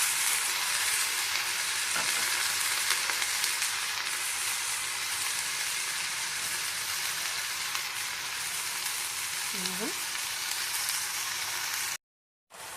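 Bogatenga leaves frying in a pan with fenugreek seeds, a dense, continuous sizzle heard close up with a brief stir around the middle, then cutting out abruptly near the end.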